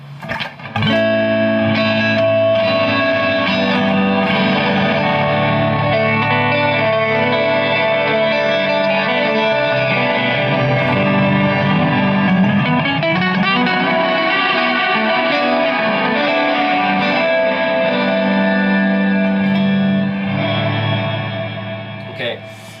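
Guitar played through an Electro-Harmonix Oceans 3-Verb reverb pedal set past halfway so it behaves like an echo or delay, sustained loud chords with washing repeats filling the whole stretch.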